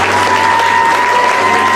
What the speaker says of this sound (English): I want to give the Lord a shout and a clap of praise for this